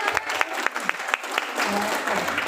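Audience applause during a talk on values and character of Christian teachers, a steady patter of hand claps with several sharper individual claps standing out, moderately loud and continuous throughout.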